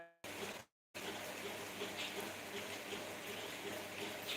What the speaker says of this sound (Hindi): वाराणसी में बारिश हो रही है अभी बहुत जोर से।